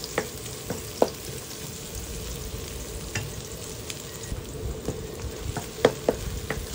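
Onions sizzle in a pan until translucent while cooking minced pork with hotdog, a steady close frying hiss broken by scattered pops and light stirring clicks.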